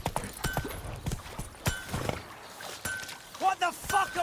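Hooves of Roach, the horse in The Witcher 3, galloping in an irregular rhythm of sharp thuds, with voices talking over them and a brief game-world sound effect near the end.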